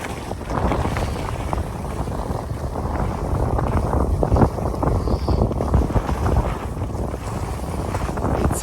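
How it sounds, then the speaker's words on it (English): Strong wind buffets the microphone on a ski slope while skiing down a track, a loud, continuous gusty rumble throughout with no talking. "It's a bit windy, but a great day."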